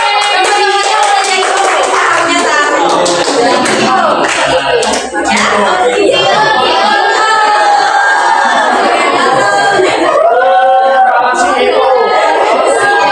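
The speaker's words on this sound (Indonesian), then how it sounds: "Tepuk tangan dulu dong" Students clap together in a school setting, a loud, dense patter of many hands that runs steadily for several seconds, with crowd chatter and voices mixed through it.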